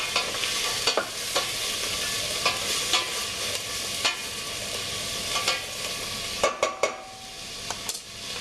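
Vegetables seasoned with salt being stirred in a sizzling pan during a cooking class, a constant frying hiss broken by scraping and clacks of the utensil against the pan, with a cluster of sharper knocks near the end.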